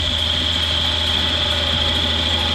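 A power tool cuts a tenon on a pool cue, producing a continuous high-pitched whine over a low mechanical hum, steady and close throughout.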